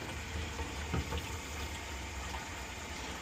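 Cold water pours steadily into the 8-liter tank of a Fanttik NB10 Nano pressure washer, a continuous close gushing fill at moderate level with no talking.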